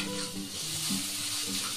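Sliced onions frying with salt in a pan, a steady close sizzle with faint stirring clatter, heard alone at low volume.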